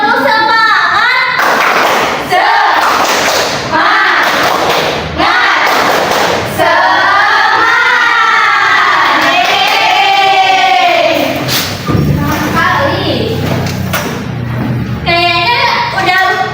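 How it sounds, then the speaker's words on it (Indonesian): Children in a classroom do a rhythmic spirit clap together, loud repeated claps and thumps in a patterned beat, mixed with chanting and shouted voices. "tepuk semangat"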